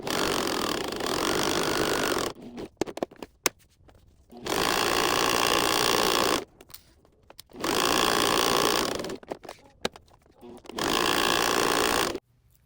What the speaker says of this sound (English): I am now going to sew around the edges of the pocket only, not the top of the pocket.